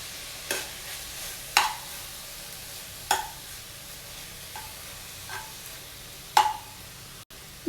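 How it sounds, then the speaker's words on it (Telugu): Amaranth leaves (thotakura) fry in a covered pan on the stove, giving a low steady sizzle with a few sharp ticks and pops spaced a second or two apart. "కవర్ పెట్టి తోటకూర అంతా ఫ్రై అయ్యేంత వరకు వెయిట్ చేయాలండి"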